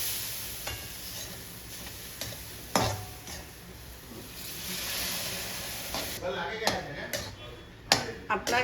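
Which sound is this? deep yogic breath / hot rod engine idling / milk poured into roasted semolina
milk poured into roasted semolina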